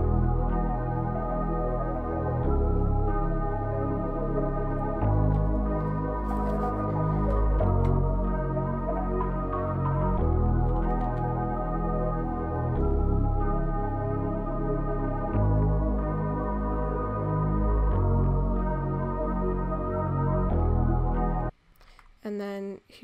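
Processed analog-style music sample with retro color and flanger effects plays as a steady, dense loop of warm bass and layered tones, looping for about twenty seconds before cutting off abruptly near the end.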